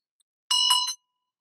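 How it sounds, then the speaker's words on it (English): A single bell or singing-bowl-like chime struck once, a bright ringing tone with clear overtones that sounds for about half a second and stops abruptly, alone in silence, opening a spiritual energy session. "I want to ring a bell."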